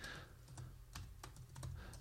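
Close typing on a computer keyboard, a quiet run of irregular clicking keystrokes, about a dozen taps over two seconds with no voices.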